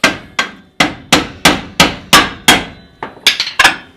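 Sharp metal hammer blows on a car's brake backing plate, about eleven strikes in a steady rhythm with ringing decays, the last few quicker and lighter, close and loud with no talk.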